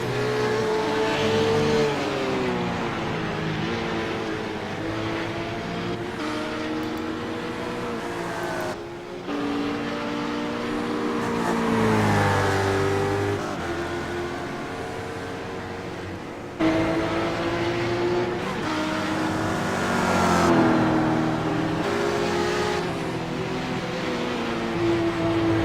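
Riley road course race cars roar past one after another, engines revving loudly and shifting through gears in overlapping waves, near and continuous with no talk.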